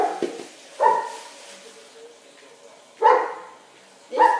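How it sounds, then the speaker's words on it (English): A dog barks four times at uneven intervals, each bark short, loud and close, with quieter room sound between them. "That's the dog barking"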